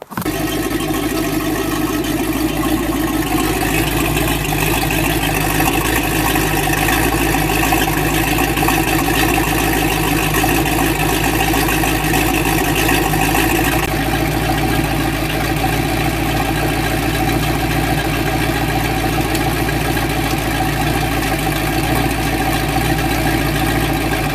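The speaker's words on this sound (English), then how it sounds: "So now we're going to go up here and fire the boat up." A MerCruiser inboard boat engine turns over and settles into a steady, loud idle that runs on without a break, its tone shifting slightly partway through.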